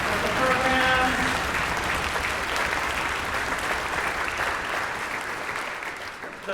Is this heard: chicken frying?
no